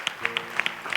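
A church congregation claps for the Lord during a Sunday service: sharp, fairly even handclaps, about seven in one second, close and clear with no talking over them.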